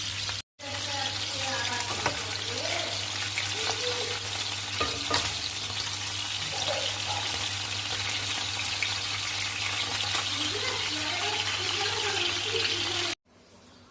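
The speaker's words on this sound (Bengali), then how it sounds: "এই যে মাংসগুলোকে আমি এক এক করে সব ভাজি করে উঠিয়ে নিয়েছি" Farm chicken pieces fry in hot oil in a kadai with a loud, constant close-up sizzle and occasional stirring over a steady low hum. The sound cuts out briefly at the start and end.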